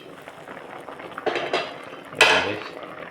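A metal cooking pot of fish simmering in coconut milk with mixed vegetables gets its lid set back on, with a few light clanks building to one sharp ringing clatter near the end over a quiet kitchen background.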